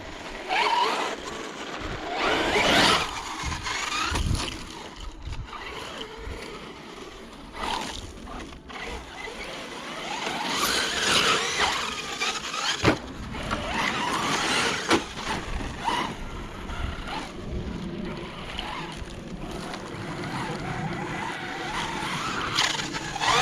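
A factory team Team Associated RC8Te stunt truck drives at a dirt track, its electric motor whining and rising as it accelerates, with repeated skids, thumps from landings and scuffing tires over a long stretch.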